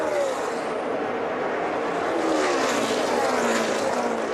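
NASCAR race cars roar at speed on the last lap of a Nationwide/Xfinity Series race at a speedway, a loud continuous engine drone with a faint rising whine, and no voices.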